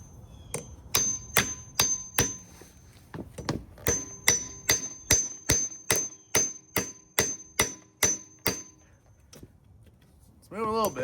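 A hammer strikes a 2021-2026 Ford F150 strut again and again in a steady run of sharp, ringing metallic blows, close and loud, with a brief pause partway through; a voice is heard near the end.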